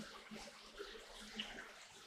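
Water runs through a DIY recirculating gold high banker, a faint, continuous splashing flow with small drips, steady and distant-sounding.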